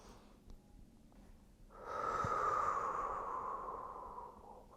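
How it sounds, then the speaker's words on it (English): A single long, slow, deep breath during a yoga puppy pose stretch, a soft airy exhale swelling up and fading gradually, close and alone. "We're going to take 5 deep breaths here."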